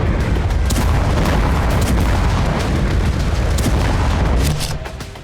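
A loud, dense rumble of explosions roars continuously with sharp cracks scattered through it, then fades slightly at the end.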